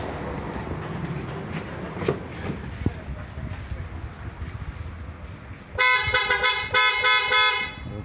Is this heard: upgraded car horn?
yes